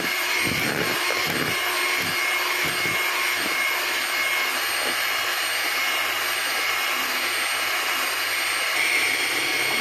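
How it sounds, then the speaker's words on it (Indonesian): An electric mixer beats butter for a gluten-free lapis legit, whipping it until thick and light, making a steady, unbroken whirring drone that holds at an even level throughout. "kita mixer hingga kental dan juga ringan ya"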